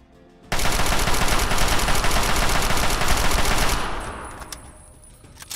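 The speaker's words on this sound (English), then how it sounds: "Give me my assault rifle." Sustained assault rifle fire in Fallout 3, aimed at a Deathclaw: a loud, dense automatic burst cuts in abruptly and roars continuously for about three seconds, then fades into a lingering tail.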